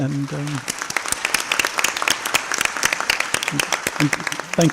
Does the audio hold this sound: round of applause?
yes